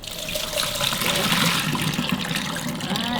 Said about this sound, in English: I have the strainer and then I'm going to rinse them very good about 2 or 3 times